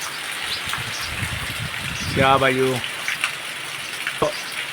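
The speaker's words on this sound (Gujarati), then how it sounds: "જોરદાર વરસાદ પાછો ચાલુ થયો" Heavy morning rain pours down in a Gir village, a steady, loud wash of sound that runs the whole time, with a brief spoken remark partway through.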